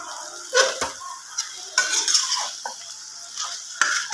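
Goat mutton pieces fry in a pan for a dhaba-style curry and get stirred with a spoon. A soft sizzle runs underneath, broken by several sharp scraping and clinking stirs at uneven intervals.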